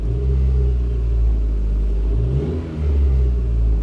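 A Lincoln MKX with a non-charging alternator revs briefly in gear, a steady low engine rumble swelling and easing with no voices over it.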